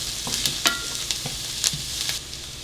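Chicken sautés in a pan with a soft, steady sizzle, punctuated by a few sharp scrapes and taps of a utensil stirring the pieces, close and moderate in volume with no talk.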